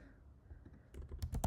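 A computer keyboard is typed on while code is written, with faint quiet clicks that quicken into a short cluster of distinct keystrokes near the end.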